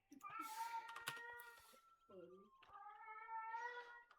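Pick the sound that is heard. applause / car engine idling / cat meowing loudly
cat meowing loudly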